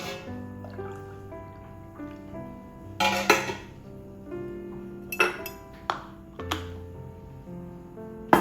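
Glass canning jars and metal lids clink and ping in a home kitchen while canning gear is readied, several sharp chinks scattered among softer rattles and a steady tonal ring, close and unaccompanied by talk.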